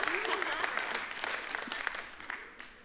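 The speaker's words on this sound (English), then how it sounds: "And yeah, you clap for that." A church audience at a Sunday service claps, a close burst of applause that fades over a few seconds, with a voice speaking over it.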